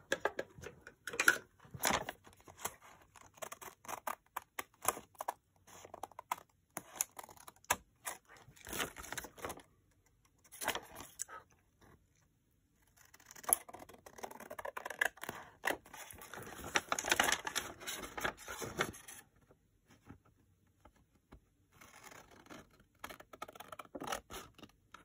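Scissors trim a paper envelope, making close, quiet snips and paper rustles in irregular bursts separated by short silences.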